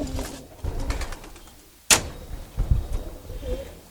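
Racing-line pigeons in a loft, soft cooing and bird calls near and low, broken by a sharp knock or door clatter midway.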